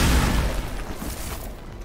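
A deep rumbling boom with crackling debris, loud at the start and slowly fading, an explosion in the video game Midnight Suns.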